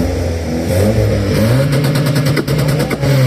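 At the BarakoFest 2024 car meet, a car engine with a full exhaust revs hard close by. Its loud, rising roar climbs through several quick throttle blips.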